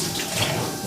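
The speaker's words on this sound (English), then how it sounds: "you want to fill this with warm water, and the warm water helps it foam better" Warm tap water rushing into a car wash foam gun bottle, a loud, steady hissing gush close by, uninterrupted for under a second with no voices.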